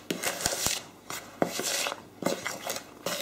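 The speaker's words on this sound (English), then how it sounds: "Now just give that a stir around." A spoon stirs a dry Cajun spice mixture in a bowl, giving repeated scraping, clinking strokes in an uneven rhythm, close and fairly quiet with no talk.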